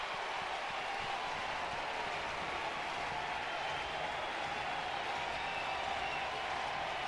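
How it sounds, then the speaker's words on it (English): Crowd at Alex Box Stadium, Skip Bertman Field, during an LSU versus Florida college baseball game, a steady, distant wash of cheering and applause that holds level without a break. "The crowd coming to full throat."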